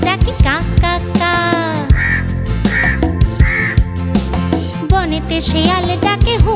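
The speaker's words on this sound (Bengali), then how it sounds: "ডালে বসে কাক ডাকে কা কা কা।" Repeated harsh crow caws ring out in short bursts over a bouncy children's rhyme tune, loud and up front among the music.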